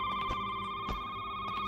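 A telephone rings quietly in a horror video game, a faint steady electronic trill held at an even pitch with soft low thumps underneath and no talking.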